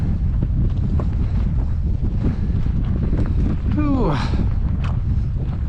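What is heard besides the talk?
cold wind blowing on a mountain trail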